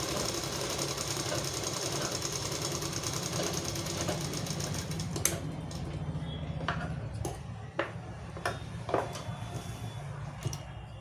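A sewing machine runs steadily, stitching through two layers of cotton cloth in a beginner tailoring lesson, a rapid mechanical chatter that later breaks into a few sharp clicks and knocks.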